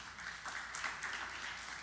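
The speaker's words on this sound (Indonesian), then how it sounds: "Tepuk tangan yang meriah bagi Tuhan Yesus" A church congregation at a sermon breaks into applause, a continuous, fairly faint patter of many hands clapping at a distance, steady throughout the short stretch.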